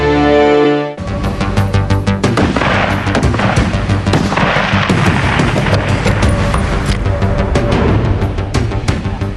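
Rapid heavy gunfire from Magnum weapons on an Army gun range at Fort Benning, Georgia, loud, dense and continuous after a brief opening tone, with overlapping booming shots and no talk.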